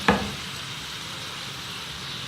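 Chicken manchurian rolls fry to a light golden colour in hot oil over medium heat, giving a steady, close sizzle with a brief clatter at the start and no voices.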